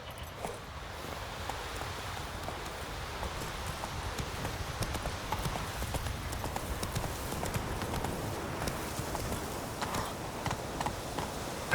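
Roach, the horse in The Witcher 3: Wild Hunt, gallops in a steady rapid clip-clop of hooves that runs throughout, with rustling and ambient game sound beneath.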